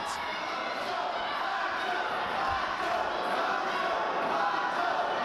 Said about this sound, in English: And the crowd chanting macho.